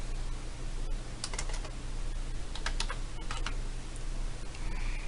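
Faint keyboard typing over a low steady hum, scattered soft key clicks in small clusters as text is entered into a chart label in a data visualization tool.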